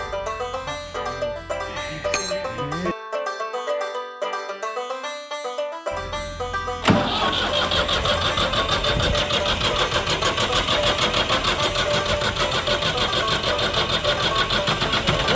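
A Takakita tractor that has run out of fuel cranks over and over without catching. It sounds like a steady, close mechanical churning that follows several seconds of music.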